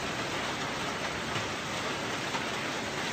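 Hail falls steadily in Ordu, Turkey, a dense unbroken hiss and patter of ice pellets striking surfaces, close and even throughout with no voices.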